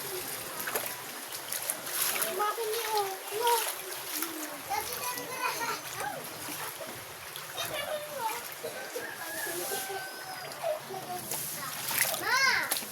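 Floodwater splashes and sloshes repeatedly during a flood in Del Norte zone 6, with children's voices chattering and calling throughout over a steady wet wash.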